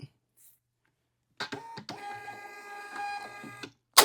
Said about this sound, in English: I'm going to print out the label.